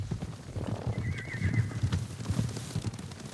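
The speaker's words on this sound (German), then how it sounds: "Pferde! Sie kommen uns holen." Horses in Ghost of Tsushima gallop with rapid clip-clop hoofbeats, and a whinny rings out partway through, all at a moderate distance over a low rumbling background.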